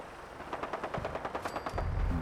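Rapid bursts of video game explosions, boosted by an explosion-enhancing mod, crackle in a quick run of sharp booms that grow louder and heavier toward the end, with no talk over them.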